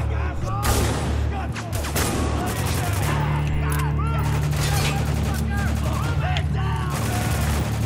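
Gunfire from a weapon in the war shooter game Spec Ops: The Line, dense bursts of shots crackling over a constant low battle rumble, with voices talking throughout.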